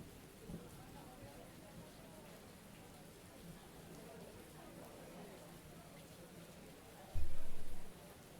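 Steady rain falling outside, a soft continuous hiss and patter with a brief low rumble near the end, heard faintly from indoors.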